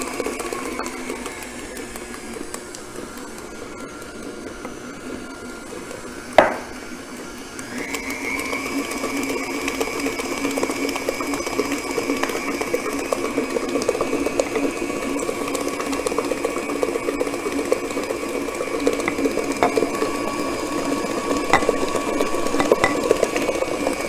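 An electric mixer whirs steadily, blending butter, sugar and cream cheese for a pound cake batter, a continuous mechanical hum with a sharp knock partway through before the motor settles back into an even drone.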